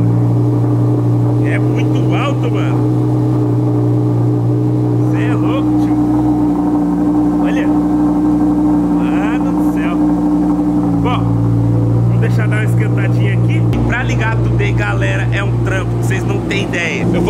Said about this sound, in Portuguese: vamos dar uma ligadinha nele aqui pra gente esquentar, né, esse motorzão